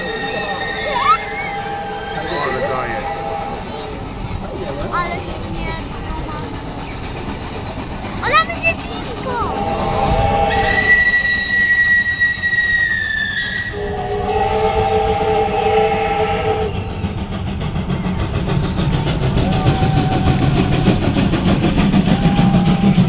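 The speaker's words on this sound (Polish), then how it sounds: "jedzie Nemka. Parowóz niemieckiej konstrukcji, seria BR52, który przyjechał do nas z Czech" German-built BR52 steam locomotive from the Czech Republic passing at a steam locomotive parade, with a steady rumble of wheels and carriages, long sustained whistle blasts in the middle, and someone talking over it.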